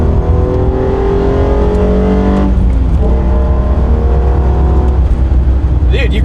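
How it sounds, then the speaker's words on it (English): A modified Hyundai Genesis Coupe's 3.8-litre V6 engine revs loudly and close, pitch climbing, dropping, then rising again in a sustained roar. "you gotta love that V6 noise, man"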